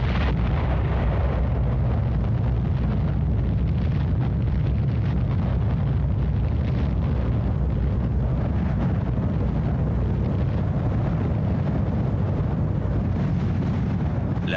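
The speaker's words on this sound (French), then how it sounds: "La bombe explose à 580 mètres au-dessus de la ville, 43 secondes après avoir quitté la soute." Atomic bomb Little Boy detonating over Hiroshima; a continuous, heavy, low rumbling roar fills the whole stretch at steady loudness with no distinct onset.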